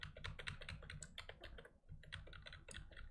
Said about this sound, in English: And all I do is press one button